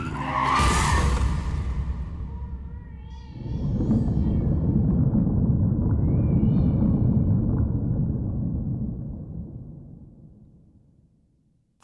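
Car skidding and crashing as a sound effect in a song skit: a sharp screech and impact, then a long loud rolling rumble that slowly fades away.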